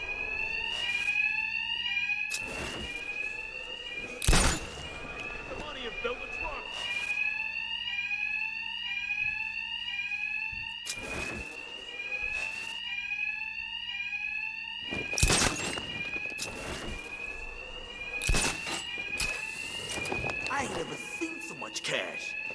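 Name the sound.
alarm ringing in Batman Arkham Knight video game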